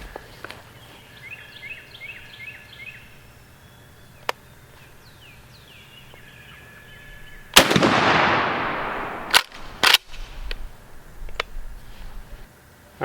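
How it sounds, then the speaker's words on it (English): A shotgun loaded with target shells fires down range outdoors, a loud sharp blast with a long decaying echo, followed by a couple of quieter bangs and clatter, with birds chirping faintly beforehand. "So take a couple shots down range"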